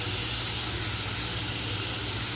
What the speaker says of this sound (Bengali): এবারে পনিরটা অল্প নাড়াচাড়া করে ভেজে তুলে রাখবো।